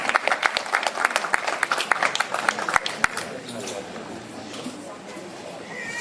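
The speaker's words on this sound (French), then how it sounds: "Applaudissez s'il vous plaît." Guests at a traditional wedding ceremony clap in dense, lively applause that stays strong for the first half and then fades into a quieter murmur of crowd noise and voices.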